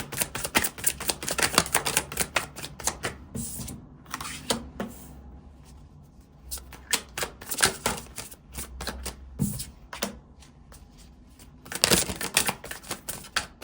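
Tarot cards handled and drawn from a deck, giving a run of crisp, close snaps and shuffling flicks in uneven bursts with short quiet gaps between.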